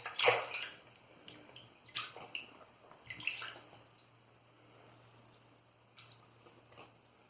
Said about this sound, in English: Put some water into the brush,